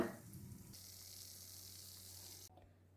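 Shakkarpara pastry frying in hot oil, a steady hissing sizzle that holds evenly, then cuts off abruptly near the end, fairly faint and alone.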